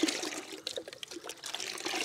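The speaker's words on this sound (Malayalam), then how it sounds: "അപ്പോൾ ഇത് നമുക്ക് ചെടികൾക്ക് ഒഴിച്ചു കൊടുക്കാം" Liquid fertilizer poured from a mug onto the soil around rose plants gives a steady watery splash and trickle that runs continuously, close and moderately loud, with no voices.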